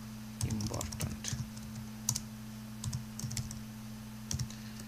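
Typing on a computer keyboard, heard as scattered quiet key clicks in short bursts over a steady low electrical hum.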